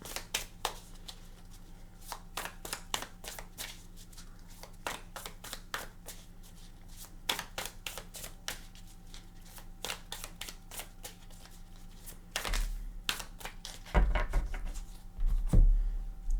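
Tarot cards are shuffled and drawn from the deck in a steady run of crisp riffling snaps and slaps, close and clear, ending in a few louder handling thumps.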